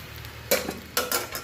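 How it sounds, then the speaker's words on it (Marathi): Quartered idli pieces with onion and spices are stirred in a hot pan, with three quick scraping, sizzling strokes of a spoon over a soft, steady fry. "आणि याला फ्राय करते."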